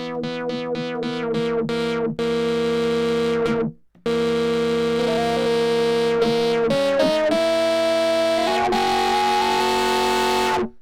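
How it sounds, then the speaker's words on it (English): A bright vintage toy synthesiser with subtle digital distortion plays a sequence of sustained notes with a mild gritty edge, continuous apart from one brief dropout; no speech. "this is digital distortion, and it can be quite subtle, just to beef the sound up a little bit"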